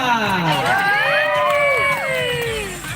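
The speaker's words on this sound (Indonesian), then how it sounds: "tepuk tangan dong buat Genta" A crowd at the final of a Minang solo song contest at the 2022 Lansano Festival in Pesisir Selatan cheers and whoops loudly for a singer, rising shouts and yells overlapping close by over a dense roar, with voices calling out throughout.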